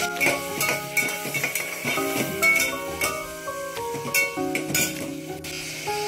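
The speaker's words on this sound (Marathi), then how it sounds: "पहिले कांदा परतून घेते ह्यातच मी." Onion and coconut paste being sautéed in a pan for a squid dish, with repeated metallic clinks and scrapes of a spoon against the pan over a faint sizzle and background tones.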